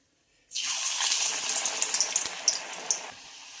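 Urad dal vada slipped into hot oil starts frying suddenly, a loud hissing sizzle after a moment of silence, with scattered pops and crackles that slowly ease off.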